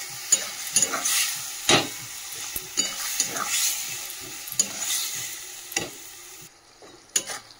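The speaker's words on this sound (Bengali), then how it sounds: "মশলাটা আমি ভালো করে কষাবো" Spice masala with tomato and chilli stir-fried in a pan for a chicken curry, giving a soft steady sizzle broken by repeated scraping and stirring strokes of a spatula, close and fairly quiet.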